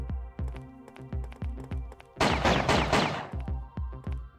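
A burst of gunshots from a handgun in a Davilex video game, loud and crackling in the middle of the clip, set against steady plucked background music.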